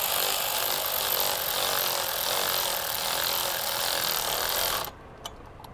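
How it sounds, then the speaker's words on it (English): Power tool, likely an impact driver or powered ratchet, tightening an M6 nut with a 10mm socket, a loud continuous buzzing whir lasting nearly five seconds before stopping abruptly, followed by a faint click. "we're going to go ahead and tighten it up using a 10mm socket"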